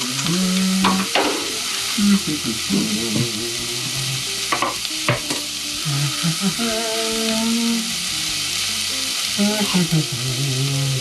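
Vegetables sautéing for coconut butternut squash soup, a steady loud sizzle and hiss with scattered scraping stir strokes across the pan.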